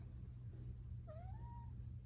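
A house cat gives a single short, rising meow. It is faint and somewhat distant over a steady low background hum.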